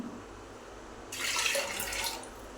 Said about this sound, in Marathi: आता पाणी घालूया आपण